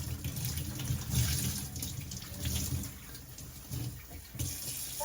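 Water runs steadily from a tap or hose while a small pet dog is being rinsed after soaping, a continuous close splashing stream with slight surges and no voices.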